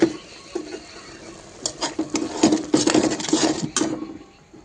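Spices frying in a pan over low gas while being stirred, with a quiet sizzle under repeated scraping and clinking of a spoon against the pan, growing busier toward the end, close up and without talking.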